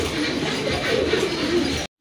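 Soft, steady cooing from a pair of red Nun pigeons, close and continuous over a background hiss, cutting off abruptly at the end.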